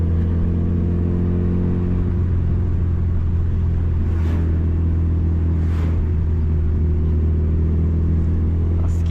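A 1996 Mitsubishi Lancer Evolution IV GSR engine idles and rumbles with a deep, steady hum, close and loud, with a couple of brief higher swells as it revs slightly.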